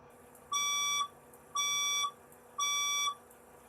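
A fire alarm speaker in a room sounds three evenly spaced, bright electronic tone pulses, each about half a second long with brief gaps, clear and alone.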